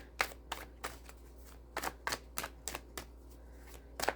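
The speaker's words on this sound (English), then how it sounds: "I'm just shuffling." Tarot cards being shuffled by hand, a series of crisp riffling bursts in an uneven rhythm, close and fairly quiet over a low steady hum.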